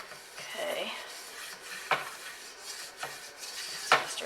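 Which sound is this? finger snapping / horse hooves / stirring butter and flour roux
stirring butter and flour roux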